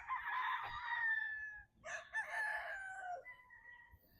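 Roosters at a game farm crow in two long, clear calls one after the other, followed by a softer trailing call, close by and fairly quiet against a calm background.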